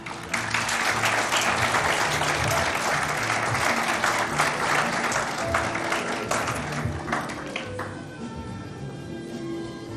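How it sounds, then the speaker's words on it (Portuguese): A hall audience gives a sustained round of applause for a professor at a college history presentation, dense steady clapping that gradually thins toward the end. "eu solicito de vocês uma salva de palmas ao professor Alberto"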